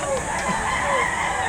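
Chickens cluck and a rooster crows repeatedly among the poultry at a Saturday chicken market behind SM City Lipa in Batangas, the calls overlapping in a steady, busy outdoor din.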